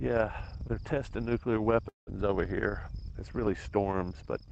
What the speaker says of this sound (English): Can y'all hear the crickets and the birds?